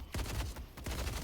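Shotgun blasts in a video game, a few booming gunfire bursts in quick succession with heavy low-end thump, loud and close, no talking.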